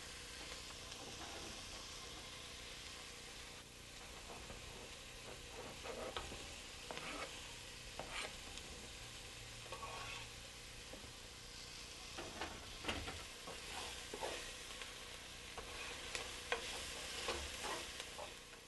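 Onions and garlic fry and sizzle in a pot for a Greek beef stew, a steady soft crackle broken by repeated scraping strokes of a spoon stirring, fairly quiet and close with no talk.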